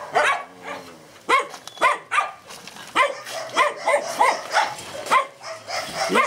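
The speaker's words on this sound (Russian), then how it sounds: "здесь у нас тоже маленькие щенятки" Puppies yipping and barking in a pen at an animal shelter, several short high barks in uneven bursts, close and fairly loud, with no talking.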